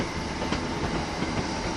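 A Northern train at Wigan North Western station, a loud continuous rumble with faint rhythmic wheel clicks, close and steady throughout.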